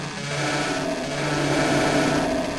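Chainsaw from the DOOM 64 video game, a continuous buzzing, rasping motor whine held steadily for the whole clip, loud and close, with no talk over it.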